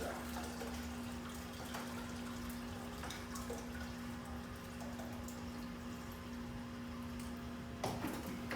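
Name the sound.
water draining from coffee brewer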